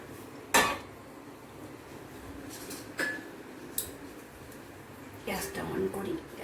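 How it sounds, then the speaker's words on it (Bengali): Metal clinks and a clatter as a saucepan holding some water is set down on a gas stove, a few separate knocks and a scrape, with a person talking in between. "প্রথমে সসপানাতে আমি খানিকটা জল নেব নিয়ে গ্যাসেতে জলটা বসাই"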